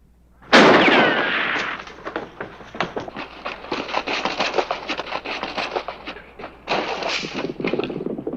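Gunfire in a western television shootout: a loud opening blast followed by a long, dense run of rapid shots and impacts, briefly easing before another burst near the end.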